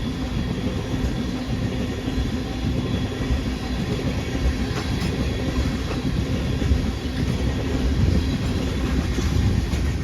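A freight oil train rolls steadily past on railroad tracks, a continuous loud rumble of wheels and cars with faint clickety-clack, close by and with no voices.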